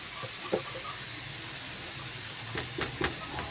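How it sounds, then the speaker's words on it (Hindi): Garlic frying in ghee for a chutney hisses with a steady low sizzle, with a few soft pops and stirring clicks near the end. "अब इसको फ्राई होने देंगे हम थोड़ी देर।"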